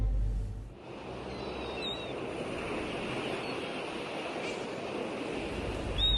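Sea waves wash and roll in a steady broadband rush under open air and light wind, continuous and moderately loud with no talking, and a couple of faint high bird chirps over the surf.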